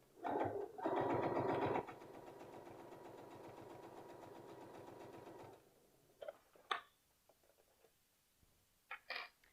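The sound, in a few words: sewing machine stitching a T-shirt with twin needles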